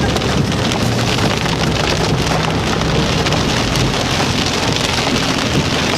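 Heavy rain pours steadily and loudly during a drive to San Miguel de Allende, Mexico, a dense drumming hiss on surfaces that never lets up, with no voices.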